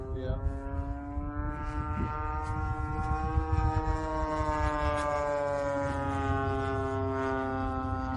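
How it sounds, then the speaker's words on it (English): A gas-powered RC airplane with a DLE 20 engine flies by, giving a steady, buzzing drone with a strong harmonic whine that holds for the whole stretch and rises slightly in pitch, fairly loud and continuous. "Gas planes. You gotta love that sound."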